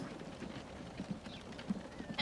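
Horse hooves clip-clopping in the Transport Fever 2 game, set in 1853: faint, soft, irregular clops over a low ambient bed, with a few slightly sharper steps.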